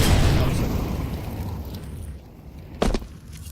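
A Molotov cocktail in Counter-Strike bursts into a loud whooshing roar of fire that fades over a few seconds, with a brief thud near the end.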